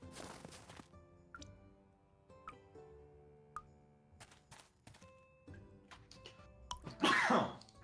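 A cartoon person sneezes once, a loud burst near the end that follows several seconds of sparse, scattered background sounds.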